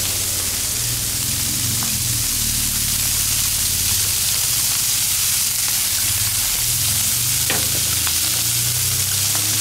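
Lemon pepper chicken frying in oil in a pan, a loud, continuous close-up sizzle lasting the whole stretch with occasional faint clicks and no voices.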